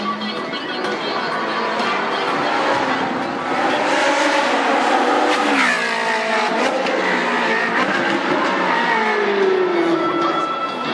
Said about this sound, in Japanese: あれ、エンジンを煽ってる音がしますけど、あれは自動的に車がやってくるんですよね